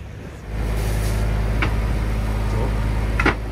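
A sailboat motors under engine power at sea on the Baltic, its engine holding a steady low drone after starting up, with a few faint clicks and knocks over it.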